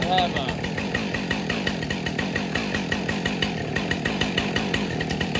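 A Husqvarna 562XP chainsaw idles while warming up, its rapid, steady two-stroke putter close and loud throughout, and a voice can be heard under the engine.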